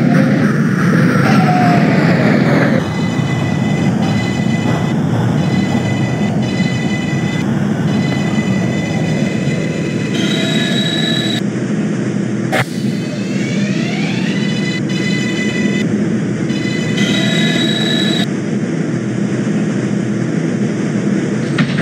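A simulated New York subway 6 train on the Pelham and Lexington line, bound for Brooklyn Bridge, in the OpenBVE train simulator. A loud, steady rail rumble runs throughout, overlaid by motor whines that rise and fall in pitch, with a sharp jolt midway.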